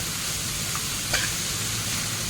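A large batch of onions frying in hot oil, giving a steady, dense sizzle throughout with a brief scrape of stirring near the middle. No voices are heard.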